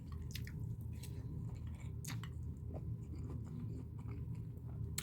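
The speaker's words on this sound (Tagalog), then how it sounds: "Kailangan ikagat-kagat sa bawat subo ng dinendeng with kanin." Someone bites and chews a mouthful of dinendeng, a mixed vegetable stew, with rice, giving soft wet squishes and occasional crunchy clicks up close over a low background hum.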